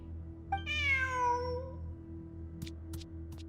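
One long, clear meow from a cat in the video game Genshin Impact, rising then falling, over a steady low hum, followed by a few faint ticks.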